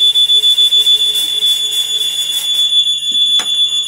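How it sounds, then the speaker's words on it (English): A piercing high-pitched smoke alarm tone sounds continuously, with a steady shrill beep and faint background noise behind it. "The smoke detector goes off."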